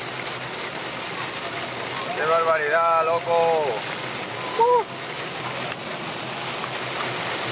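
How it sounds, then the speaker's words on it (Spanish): Heavy rain pours down outdoors in a steady, dense hiss that continues throughout, while a man exclaims loudly over it. "¡Ojo a cómo llueve!"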